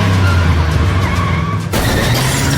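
A car engine roars as it pulls away with tires skidding, loud and close, then a sharp burst of screeching noise cuts in partway through.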